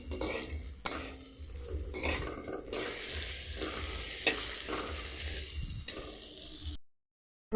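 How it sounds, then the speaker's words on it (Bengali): Sliced pointed gourd fries in a pan with a loud, continuous close sizzle, punctuated by metal spatula scrapes and clinks against the pan, before the sound cuts off abruptly. "পটলগুলো কিন্তু লাল লাল করে ভাজা হয়ে গিয়েছে"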